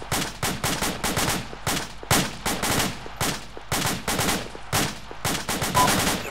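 Suppressive gunfire rings out during a live firing drill: rapid bursts of sharp rifle shots cracking in quick irregular clusters, loud and close, with short gaps between volleys and no talk over it.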